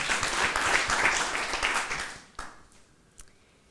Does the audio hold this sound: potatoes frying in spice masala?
no